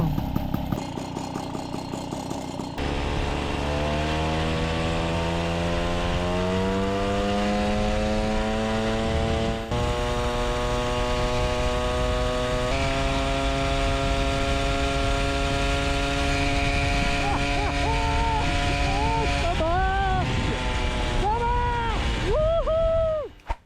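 A derestricted MBK 40V moped with an AV7 engine, Airsal 45 kit, SHA 15 carburettor and Cobra exhaust runs steadily up close, its loud buzzing note climbing and settling through revs, with sharp blips near the end.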